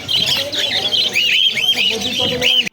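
Lutino and pied cockatiels at a busy bird market in Garia, giving a steady run of repeated shrill chirps and whistles close by, with a faint murmur of market voices underneath.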